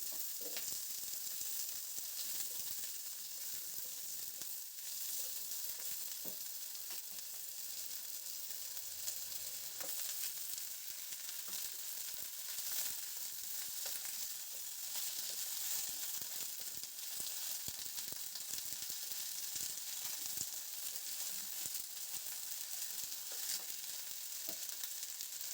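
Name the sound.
potatoes and broccoli frying in a pan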